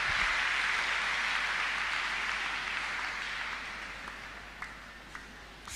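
A church congregation at a deliverance service claps together in a dense wash of applause that gradually fades toward the end, with a few last isolated claps.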